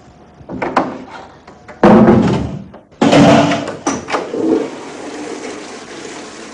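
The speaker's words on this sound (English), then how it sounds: "Shut the door" A door being shut indoors, with a loud thud followed by rattling and a second heavy burst of noise that fades into a long tail, with no voices.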